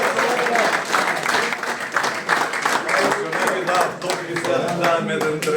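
An audience at a gathering of former footballers from a Tetex club breaks into sustained, lively applause and clapping, with voices mixed in under the noise.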